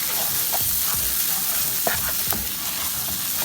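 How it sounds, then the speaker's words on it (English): Chicken frying in a pan with chicken seasoning, dried oregano, chili powder and mixed seasoning, stirred with a steady sizzle and scraping stirs for samosa filling, close and continuous with no talk. "after frying this for a while, all we're going to do is add in some chicken seasoning, some dried oregano, some chili powder, and some mixed seasoning. I'm going to stir everything up."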